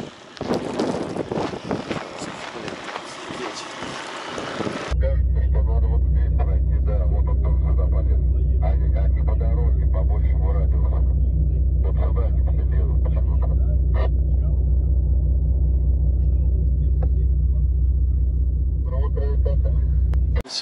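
A Volvo car engine roars under heavy throttle while pulling out of a stuck spot on a rough Yakutian road, a loud continuous low rumble after a brief windy opening, with people talking over it.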